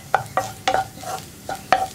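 Chili powder and spices frying in a pan for a soya chunks roast, with sharp scraping stirs about every third of a second over a steady close sizzle.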